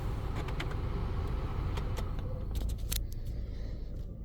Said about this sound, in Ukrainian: Запустимо двигун